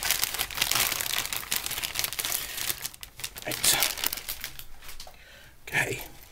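Plastic bag crinkling and rustling near at hand while a Revell 1:72 Messerschmitt Me P.1099B model kit is unboxed, a dense run of crackles with brief pauses and a softer stretch toward the end.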